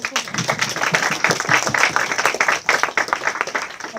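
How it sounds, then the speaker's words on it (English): An audience at an experimental film lecture claps loudly and close by in a dense, uneven burst of applause for several seconds, with a voice briefly audible. "An applause to you."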